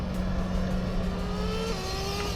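An HPI RS4 nitro RC car engine buzzes steadily at a high pitch, with its tone sliding as the revs shift. The sound is fairly faint and no one speaks.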